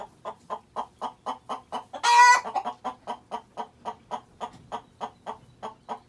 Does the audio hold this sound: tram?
no